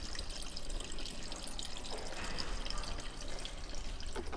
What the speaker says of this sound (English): listen for the tinkle tinkle of fluids reaching the floor